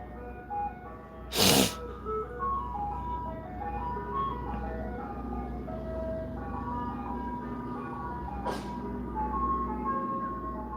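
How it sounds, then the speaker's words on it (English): An ice cream truck passes nearby, its looping chime melody playing steadily over a low engine rumble for the full stretch, with two short bursts of hiss or a sneeze-like noise partway through. "The ice cream truck's annoying, man."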